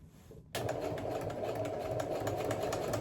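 After a brief pause, a sewing machine kicks in and runs steadily, stitching a jacket with its presser foot taped in masking tape, a close, even mechanical whir with no talking.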